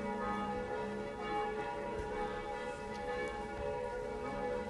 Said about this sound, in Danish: Kører rundt om, hvor klokkerne lyder fra Møgeltønder Kirke